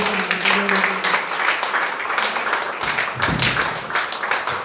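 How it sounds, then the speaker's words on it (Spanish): A congregation applauds in a church service, loud uneven clapping in bursts with some rhythmic patting, and a voice briefly heard under it. "Denle fuerte ese aplauso"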